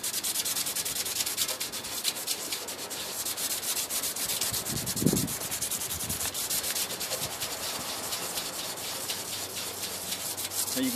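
Aluminum foil dipped in Coke is rubbed briskly back and forth over a rusty chrome bumper, producing a continuous close, rapid scratchy scrubbing with even rhythm, heard alone without speech.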